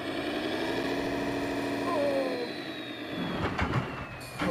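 A heavy diesel tractor engine labors and revs nearby on a farm, its tone shifting as the load changes, ending with some clunks and rattles.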